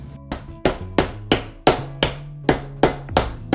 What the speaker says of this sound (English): So let's get some ice in here, and let's get to hammering.